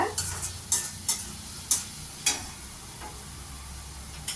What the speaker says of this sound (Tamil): இதை ஒரு ஒரு ஒரு செகண்ட் வந்து சும்மா இப்படி வதக்குங்க